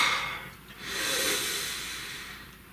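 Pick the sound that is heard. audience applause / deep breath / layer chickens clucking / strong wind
deep breath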